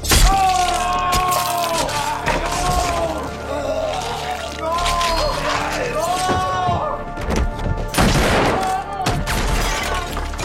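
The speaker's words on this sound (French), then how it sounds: "une fusillade éclate, tuant le 2e criminel" A gunfire shootout from the film Smile 2 erupts in bursts of sharp shots and thuds, mixed under music and French narration, with a heavier cluster of impacts near the end.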